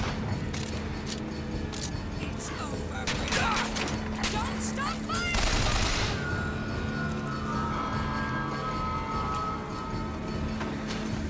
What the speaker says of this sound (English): Don't stop shooting!